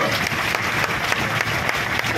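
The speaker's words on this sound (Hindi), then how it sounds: "उन सब भाइयों के लिए एक बार जोरदार ताली बजा दी जाए।" A crowd at a farmers' panchayat rally claps loudly and continuously, with a dense, close wash of hand claps.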